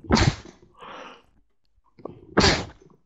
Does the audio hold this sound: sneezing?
yes